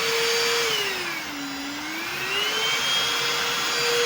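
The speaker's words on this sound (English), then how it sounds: "It's pretty powerful too." A TEUMI 9KPA cordless rechargeable handheld vacuum cleaner runs steadily up close, a continuous whining hum whose pitch dips and rises again as the load changes, with no voices.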